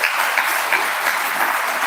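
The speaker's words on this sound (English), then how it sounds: "So big hand applause for them." An audience at a national nuclear energy workshop at a college gives the organizers a loud, close burst of applause, an even, continuous patter of many hands with no talk over it.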